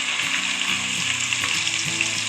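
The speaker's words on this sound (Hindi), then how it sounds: "लहसुन और अदरक हमारे अच्छे से फ्राई हो चुका है" Garlic and ginger sizzle steadily in hot oil, a continuous crackling hiss with small pops, close and fairly loud, with no talking.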